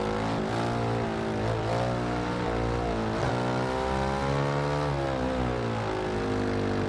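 A Ducati Scrambler 800 Icon 2015 motorcycle in the racing game Ride 2, its engine droning loudly and continuously with rising and falling revs as it accelerates and shifts.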